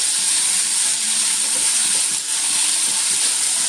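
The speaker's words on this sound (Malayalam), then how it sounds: "നല്ലോണം ഒന്ന് വഴത്തിയെടുക്കാവേ" Steady, close sizzling of onions sautéing with salt in oil in a pan for onion chutney, a continuous hiss with faint crackles and no talking.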